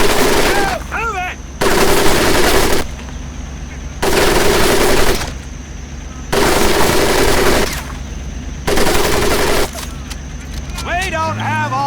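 Bursts of heavy machine-gun fire sound in a Pacific Assault war game set at Tarawa Atoll, 1943. Loud fusillades of about a second each repeat at a steady pace, with a shouted voice under the gunfire.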